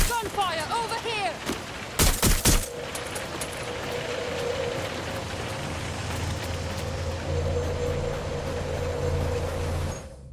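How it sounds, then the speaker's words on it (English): Gunfire in the video game Watch Dogs Legion: a short burst of rapid shots near the start, sharp and loud, then a steady low mechanical hum, with speech early on. "Gunfire over here!"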